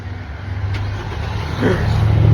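A car engine is started by remote start, a low idle rumble swelling partway through into a louder, rising engine note close by.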